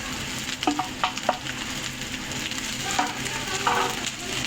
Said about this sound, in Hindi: अब यहाँ पे भिंडी को फ्राई करना है प्याज के साथ 5 से 6 मिनट